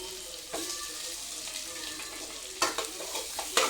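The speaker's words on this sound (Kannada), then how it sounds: "ಇದನ್ನು ಕರೆಕ್ಟಾಗಿ ಫ್ರೈ ಮಾಡ್ಕೋಬೇಕು" Chopped onion and chilli fry in a pan with curry leaves, a steady faint sizzle running throughout, with a few sharper scrapes and clatters of stirring near the end.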